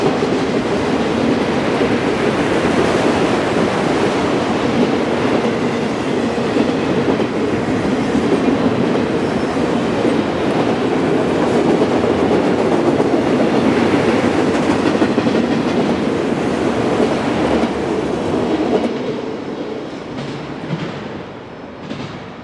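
A CSX freight train with locomotives rolls past in upstate New York, a loud steady rumble with clickety-clack from the wheels that runs for most of the time and then fades slightly at the end.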